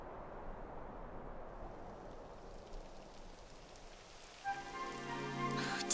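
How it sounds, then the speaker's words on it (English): Rain falls steadily in the video game Dragon Quest XI, a soft continuous patter near the listener, joined in the last seconds by a brighter, more tonal layer of game sound. "It would have to go and start raining, wouldn't it?"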